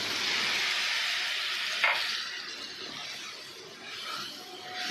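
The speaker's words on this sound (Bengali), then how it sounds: "দিয়ে আমি মশলাটা এবার কষতে দেবো।" Spice masala with coriander and cumin powder frying in a pan, a steady soft sizzle with a brief stirring scrape partway through, close and without talk.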